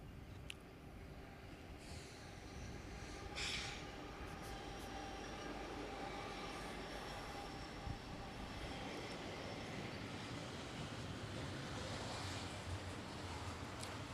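A steady, continuous rumble of a train rolling past, with a faint high squeal around the middle, no voices.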